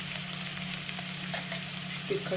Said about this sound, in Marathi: कांदा टोमॅटो परतून झालेला आहे. आता आपण मसाले घालून घेऊया.